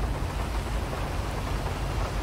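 Steady, dense rain hissing without a break through the night city of the video game GTA V, a constant wash of downpour with no voices over it.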